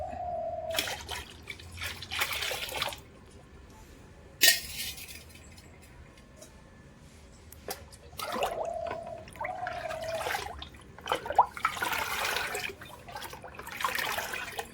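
Liquid fertilizer splashes and pours into plain water in several short bursts, with occasional clinks of a container between pours.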